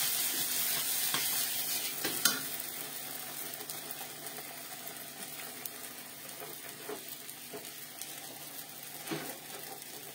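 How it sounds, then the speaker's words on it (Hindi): Green peas roasting and being stirred in a hot kadhai alongside spices, giving a steady low sizzle with a few sharp scraping clinks of the spoon against the pan, close and moderately quiet with no talk. "ये देखिए इधर हमारा मटर भी भून रहा है।"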